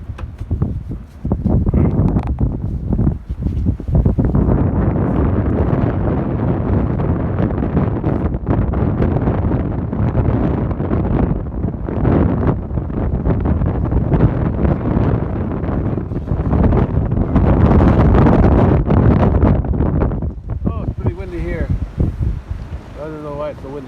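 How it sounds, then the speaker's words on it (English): Strong gusty wind buffets the microphone outdoors near a parked vehicle on a very windy day, a loud low roar surging and dropping for most of the stretch, with a voice briefly heard near the end. "I don't know why it's so windy here."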